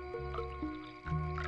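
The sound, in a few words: water being poured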